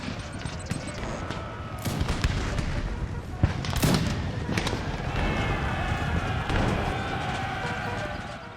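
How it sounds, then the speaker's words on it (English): Cannon fire from an Empire: Total War battle, scattered booming shots and crackling volleys over a continuous battlefield din, with someone talking intermittently. "There's the cannons once again."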